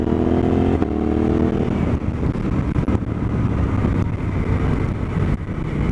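A Suzuki DL-800 motorcycle engine and exhaust pipe rumble steadily while riding, a loud continuous drone with wind noise and no clear pauses.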